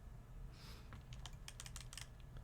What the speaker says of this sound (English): The furious keyboard typing.